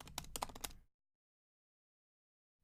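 Computer keyboard typing a name into code, a quick run of close, crisp key clicks lasting under a second before silence.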